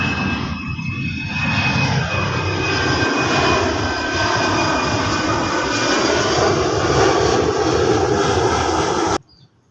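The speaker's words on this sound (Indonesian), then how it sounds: "ada pesawat lewat" A fixed-wing airplane passes overhead near an airport, its loud, steady engine roar filling nearly ten seconds before cutting off abruptly, with no voices heard.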